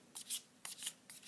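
A deck of smooth, matte oracle cards riffles in three quick, soft bursts, shuffled close by in a quiet room.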